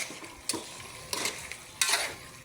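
Chicken for tinola stirred in a pot, three distinct scraping strokes of a spoon against metal over a low background sizzle, spaced about half a second apart.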